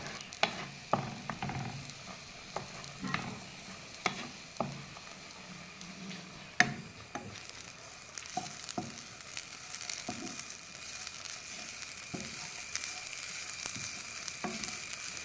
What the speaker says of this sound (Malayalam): തേങ്ങ ഒരുവിധം ബ്രൗൺ കളർ ആകുന്നവരെ നമ്മൾ വറുത്തുകൊണ്ടിരിക്കണം.